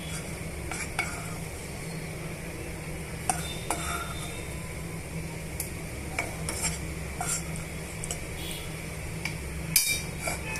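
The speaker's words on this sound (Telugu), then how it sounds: "ఇదే ప్యాన్లో కొంచెం బియ్యం వేసుకొని సేమియాని వేయించేసుకుందామండి" Vermicelli roasts in a pan with a spoon of rice, a constant low hiss under repeated scraping and stirring, with occasional sharper metallic taps against the pan, near and steady.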